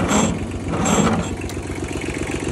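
A 1956 Ford 800 tractor engine cranking over on the starter, a loud close rhythmic churning with steady pulses that never catches and runs, heard alone without voices.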